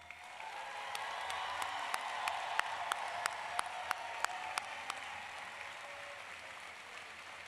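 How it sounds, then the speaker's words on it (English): Graduates at the SIUE spring commencement receive steady audience applause, a dense even wash of clapping filling the hall with a few sharper claps standing out near the front, holding throughout. "let's give our graduates one final round of applause"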